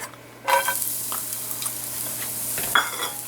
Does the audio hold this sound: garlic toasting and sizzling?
yes